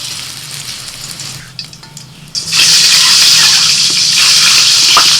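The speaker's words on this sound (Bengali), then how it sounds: "ওই তেলের মধ্যে আমি ডিমগুলোকেও ভেজে নিচ্ছি" Eggs frying in hot oil give off a loud, bright sizzle that bursts in partway through after a quieter, scrappier start, then holds steady and close until the end.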